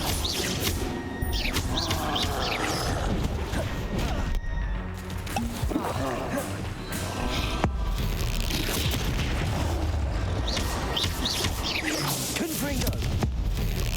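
Repeated Confringo blasting-spell explosions in Hogwarts Legacy, booming bursts and crashes stacked over dense continuous combat noise, with a voice calling out spells in between.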